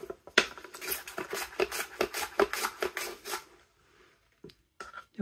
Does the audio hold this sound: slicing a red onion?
yes